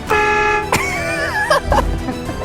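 The horn of Armenia's biggest car sounds on a film set as a single loud, sustained honk of about half a second. Wavering tonal sounds and muffled thumps follow close by.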